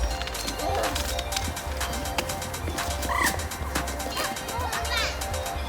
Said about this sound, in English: The ducks.